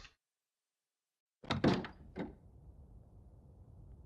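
In The Long Dark, a wooden door at a gas station creaks and thumps shut, two close knocks after silence, followed by a low rumble of wind.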